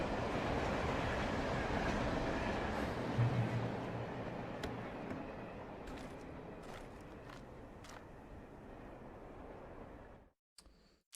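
Train rolling along in Alan Wake Remastered, a steady rumbling wash of wheels and carriage noise with faint clicks, fading out near the end.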